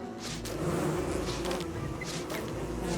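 Bees buzz continuously around a hive in a survival video game, a steady insect drone holding at close range with slight swells in loudness and no voices.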